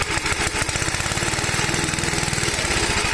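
A Villiers engine with a starting problem runs with its throttle opened wide, producing a close, loud, rapid chugging of regular firing pulses with no voices.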